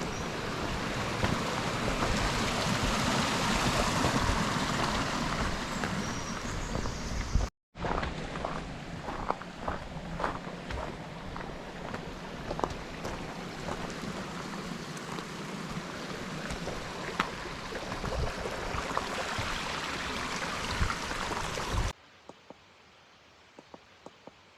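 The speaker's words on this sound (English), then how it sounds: "Here by the water and the river running." Broadband rushing river water runs steadily near Beddgelert in Wales, close and continuous, with a short break partway and a quieter stretch at the end.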